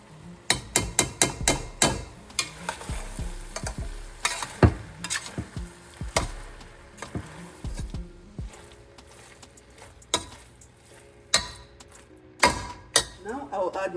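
Sharp scraping and knocking of a utensil stirring chunks of potato in a pot, in quick irregular strokes with a light sizzle underneath.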